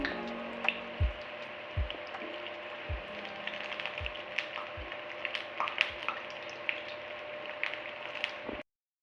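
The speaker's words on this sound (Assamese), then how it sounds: "এটা দুফালে ৰঙচুৱা হোৱালৈকে ভাজি থাকিব" Steady oil sizzle of ripe jackfruit pitha frying on low heat, with repeated low thumps and light clicks of utensils over about nine seconds before it stops suddenly.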